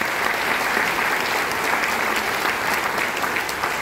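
An audience at a success seminar claps for Team PMA, a full, even wash of applause that holds steady for several seconds with no voices over it.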